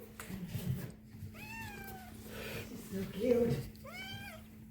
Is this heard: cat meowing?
yes